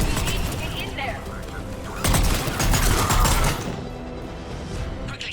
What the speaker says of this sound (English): Pod under fire. Taking fire!